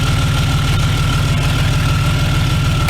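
A car engine idles steadily and loudly right after a jump start from a TOPDON JS2000 2000 amp jump starter, with a constant low rumble and a faint whine running throughout.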